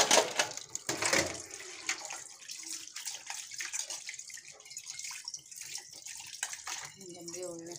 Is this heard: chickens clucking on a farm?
no